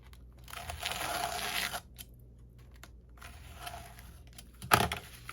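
Paper ephemera is cut up by hand, giving close crinkly rustling and tearing-like bursts, then a quieter stretch and one sharp crisp snap near the end.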